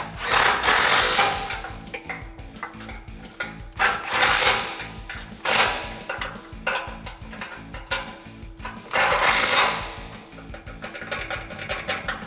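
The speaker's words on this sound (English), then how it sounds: "now we can line up our bumper and tighten down these bolts" A power tool tightens the bolts on a Barricade Extreme HD front bumper on a 2004-2008 Ford F150, with loud repeated whirring bursts and rattling impacts.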